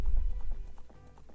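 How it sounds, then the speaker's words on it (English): The horse Epona gallops in Zelda: Ocarina of Time, quick rhythmic clip-clop hoofbeats close and loud over a low rumble, fading slightly toward the end, with no talk. "But then again, at the same time, it gives us more of a chance to ride the fields and spend some time with Epona."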